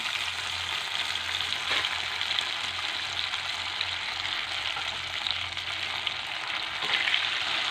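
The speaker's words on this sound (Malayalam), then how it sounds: "അതുകൊണ്ട് നമുക്കിത് ഫ്രൈ ചെയ്യാം" Sliced radish frying in a pan, a steady, dense sizzle with a soft crackle that holds at an even level throughout, with no talking over it.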